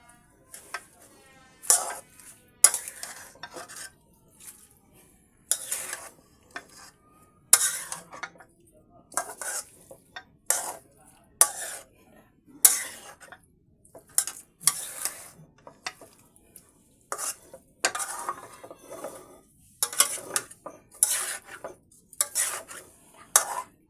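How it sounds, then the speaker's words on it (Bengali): Beef tripe curry stirred in a pan, a spatula scraping and clinking against the metal in irregular strokes, close and fairly quiet, with long silent pauses between bursts. "এবার আমি সুন্দর করে নেড়ে নিচ্ছি"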